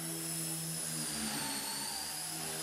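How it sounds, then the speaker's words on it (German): A small RC helicopter's tail motor whines steadily at high pitch indoors, a constant electric drone with tonal harmonics, loud and close with no talking. "Der Heckmotor ist halt einfach. Also von der Akustik her ist das Ding scheiße."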